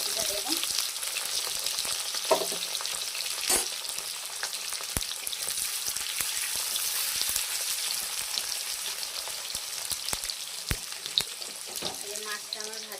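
Potatoes fry in oil in a pan for a fish and cauliflower curry, a constant soft hiss of sizzling with occasional stirring clicks and taps, moderately quiet and steady throughout.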